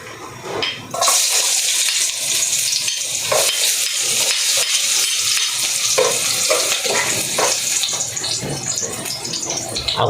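Garlic hitting hot oil in a pan for chicken tinola, a loud sudden sizzle that swells into a dense, steady hiss with stirring scrapes, close and continuous.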